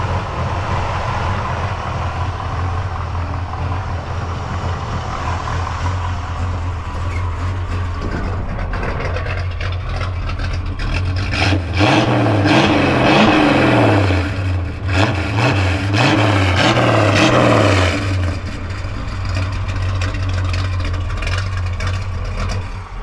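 A 1967 Pontiac LeMans with new dual exhaust and stock manifolds idles with a deep, steady rumble, swelling briefly louder midway as the engine revs before settling back to a constant low drone.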